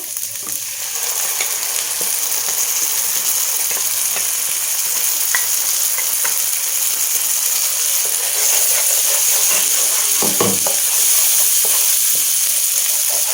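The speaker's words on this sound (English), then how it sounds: "Now I will put garlic ginger paste. Then mix it well." Garlic ginger paste, cashews and coconut paste stirred in a hot pan for bottle gourd kofta curry, a steady loud sizzle and hiss throughout with occasional scrapes of the spoon, no voices.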